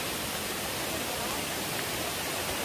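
Broad, steady rushing of a waterfall cascading beside a steep hillside trail near Bigaho Falls, a constant dense roar filling the clip without pause.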